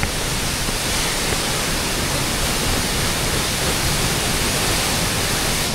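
A roadside waterfall met on the way home, heard as a steady, dense rush of falling water filling the whole clip, loud and unbroken with no voices over it.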